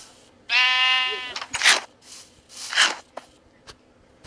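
A loud, close bleat from a brown sheep in Minecraft rings out, followed by crunchy, noisy chewing or rustling bursts, with a quiet background hum.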